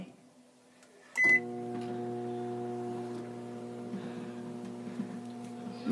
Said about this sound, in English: Microwave starting.